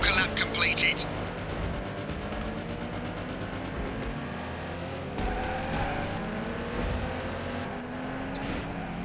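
A rally car engine in a rallycross video game roars steadily at close range, revving and shifting with broadband road noise, joined by brief sharp pops near the start and end.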